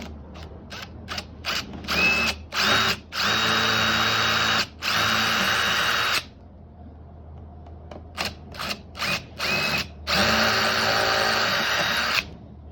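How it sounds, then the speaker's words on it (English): A power drill whirs in repeated bursts while stepping up drill size on a coconut shell, short trigger pulses alternating with longer sustained runs, loud and close, with quiet gaps between. "I am just gonna go up just a little bit in drill size."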